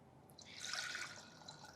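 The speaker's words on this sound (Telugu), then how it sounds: "దీంట్లో కొన్ని వాటర్ వేసుకోండి." Water poured into ragi flour while preparing ragi java, a short soft splashing trickle of liquid building and easing over under two seconds, fairly quiet and close.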